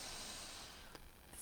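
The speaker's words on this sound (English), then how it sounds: "breathing in through the nostrils, drawing the breath into the lower belly" Someone takes a deep breath in through the nostrils during a guided movement and breathing session, a faint airy hiss that swells and holds near the microphone.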